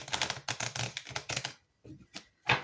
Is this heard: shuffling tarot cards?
yes